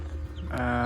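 A Buff Mottled Cochin hen gives a brief, close cluck that rises into a sustained, tonal call, alone over a low background hum.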